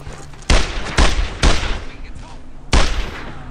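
Gunfire from the World War II shooter Brothers in Arms: Earned in Blood, four loud close shots with booming tails spaced about a second apart, over a low background rumble.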